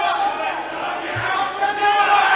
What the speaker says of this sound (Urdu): آپس میں نعرے بازی نہ لگائیں۔